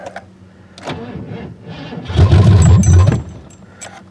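An old gas engine with a gummed-up carburetor, primed with gasoline poured into it, cranks and briefly fires: a few soft coughs, then a rough, loud rumbling burst lasting about a second before it dies back to quiet clatter.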